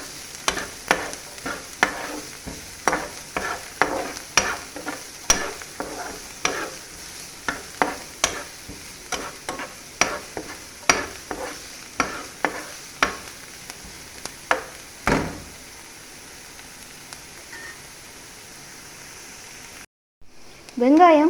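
Chopped large onions sautéed in a pan for fish podimas, with rhythmic spatula strokes scraping about every second over a soft sizzle for roughly fifteen seconds before it quiets.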